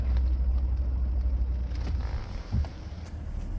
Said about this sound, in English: nice, just constant, steady throttle